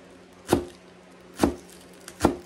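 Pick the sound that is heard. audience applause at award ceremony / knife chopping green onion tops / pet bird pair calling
knife chopping green onion tops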